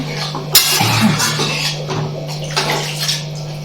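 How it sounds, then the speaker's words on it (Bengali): Water pours steadily into a pot of vegetables for sago khichdi, making a close, continuous splashing stream with a brief clatter at the start. "এবার দিয়ে দেবো জল পরিমাণ মতন যাতে করে কিনা সবজিগুলো সেদ্ধ হয়ে যায়"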